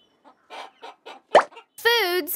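Chickens on a farm giving a short series of soft clucks, then a louder plop-like cluck and a rising, squawking call at the end, close and fairly clear.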